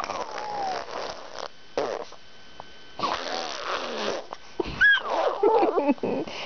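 Short bursts of a baby's fussy, strained vocalizing, whiny squeals and grunts broken by pauses, close by.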